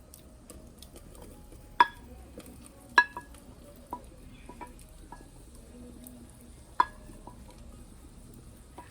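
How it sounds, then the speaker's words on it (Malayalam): Onions and green chilies sautéing in a pan for a Kerala-style duck curry: a faint, low sizzle broken by a handful of sharp, isolated spoon taps against the pan. "ഇനി ഇതിലേക്ക് നമുക്ക് സവാളയും പച്ചമുളകും ഇട്ട് കൊടുക്കാം."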